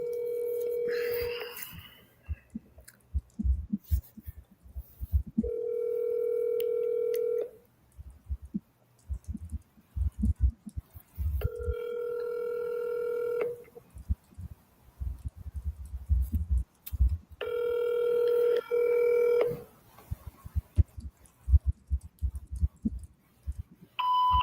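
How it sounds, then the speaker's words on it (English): Electronic telephone dial tones during a live call: steady tonal bursts of a few seconds each, repeating four times with gaps between them, over background noise and some low clatter. "We'll dial again."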